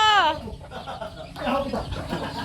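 Chickens and chicks make noise close by, a bright peeping call at the start and then scattered clucks and chirps mixed in with people talking.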